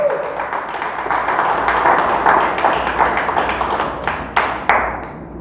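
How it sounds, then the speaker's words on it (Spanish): A church congregation clapping together in strong, steady applause during a Spanish-language sermon, dense hand claps that fade toward the end with a few last louder claps. "Le damos un aplauso a Dios. Denle fuerte el aplauso"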